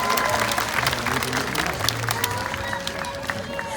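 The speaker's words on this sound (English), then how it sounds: "Let's give them another round of applause and welcome them back to the stage" An aquarium audience at the Long Island Aquarium sea lion show applauds, steady dense clapping and crowd noise filling the whole stretch at a fairly loud, even level, with faint murmuring voices mixed in.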